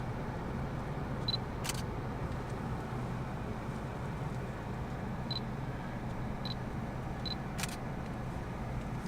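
Fujifilm 100-400 zoom lens autofocus motor hunting while aimed at a rhino outdoors, giving several brief faint high chirps and a couple of sharp clicks spread over a steady low ambient rumble, no talking.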